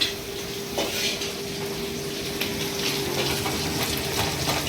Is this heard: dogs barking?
no